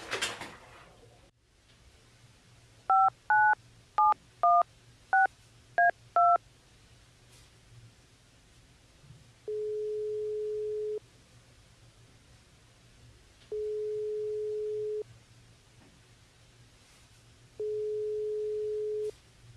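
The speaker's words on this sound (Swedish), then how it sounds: "Jag ringer till Maggan." A string of seven telephone dialing tones in quick succession, then after a pause three long, evenly spaced busy-signal beeps over faint room hum.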